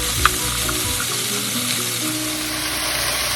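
Mushrooms, carrots and peas with minced garlic frying in a pan for chicken pot pie, a steady close sizzle with a few soft stirring clinks near the start.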